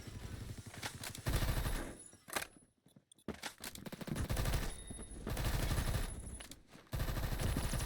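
Rapid automatic gunfire from the video game Phantom Forces rattles in loud bursts, broken by a brief silent gap and short pauses before firing resumes.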